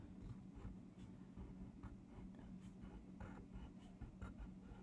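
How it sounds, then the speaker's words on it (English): A pencil traces around block letters on a paper worksheet, giving a soft, continuous scratchy rasp with small strokes and pauses over a steady low background hum, fairly faint and close. "I'm going to drive around the letter"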